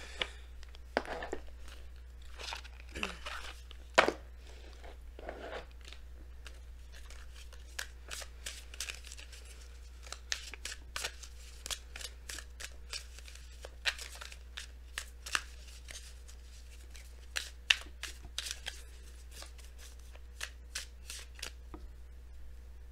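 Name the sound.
shuffling and pulling Messenger Oracle cards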